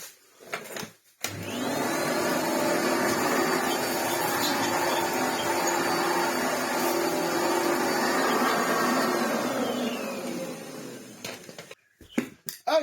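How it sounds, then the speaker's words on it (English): A 1980s vacuum cleaner starts up and runs close by with a steady, loud whine for about ten seconds, then switches off, with clunks of handling at both ends. "all cleaned up with our modern vacuum cleaner from the 1980s"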